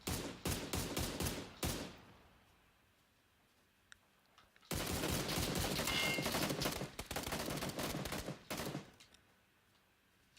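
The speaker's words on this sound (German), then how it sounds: "Ja, sie schießen auf uns." Rapid automatic gunfire from a video game shooter comes in two long, loud bursts separated by a quiet stretch with a faint click, the second volley lasting several seconds.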